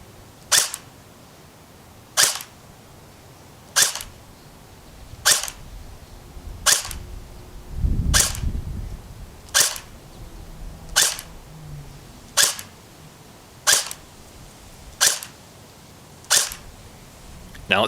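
An ASTKilo23 AK74 airsoft rifle fires 0.2 gram rounds on a 7.4 volt stick battery: about a dozen sharp single shots spaced evenly roughly every 1.4 seconds, close and crisp, with a brief low rumble partway through.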